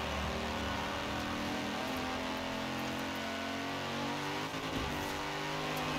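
AMG Hammer car engine revving continuously in the racing video game Forza Horizon 4, a steady loud mid-pitched drone with slight shifts as it accelerates through corners, no speech.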